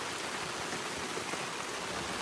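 Steady rain pouring down on a campsite in Canada, a dense, even hiss of drops on tarps and the ground that does not let up, close and loud, with no voices.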